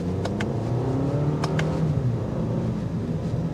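A 2024 Lexus ES250 accelerates hard off the line, its engine note climbing steadily in pitch as it pulls away, loud and close throughout with no talking.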